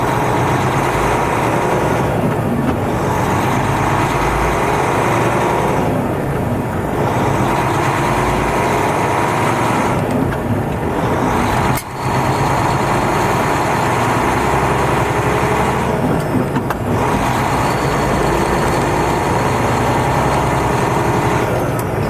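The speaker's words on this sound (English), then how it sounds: "Diesel power." A heavy haul truck's 505-horsepower diesel engine drones steadily and loudly throughout, a continuous low rumble with slight swells and one brief dip, no talking over it.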